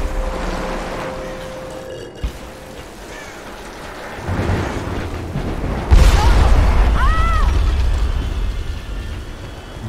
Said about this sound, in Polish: Boże, drzewa wybuchają.